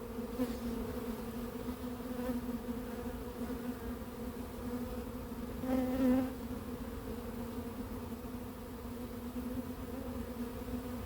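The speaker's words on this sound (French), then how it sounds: "qui est remplie d'abeilles là. Il y a une abeille là-dedans." Honeybees from a swarm buzz steadily and close during hiving, a dense continuous hum that swells briefly as one passes nearer.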